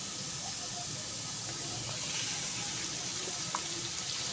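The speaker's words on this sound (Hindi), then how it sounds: "अब मैं इसके अंदर घी डाल दूँगी।" Ghee added to a pan of onions for a Punjabi chicken masala, producing a steady close hissing sizzle with faint crackles and an occasional small pop.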